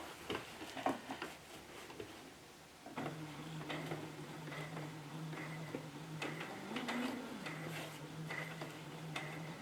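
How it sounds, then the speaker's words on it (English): A sewing machine stitches fabric for a cat bed, a steady mechanical hum and ticking that starts a few seconds in and runs on continuously at a low, close level. "now we're going to stitch right along that dotted line"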